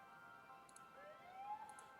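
Police car siren in the SimCity city-building video game, a faint rising wail sweeping upward over a low background hum, with small chiming ticks, no voices.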